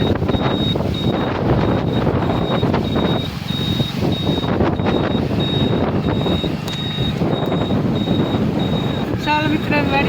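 Strong gusty wind blowing across a wheat field in a village farm during a rainstorm, a steady loud roar buffeting the microphone throughout, with a faint repeating high beep and some voices underneath.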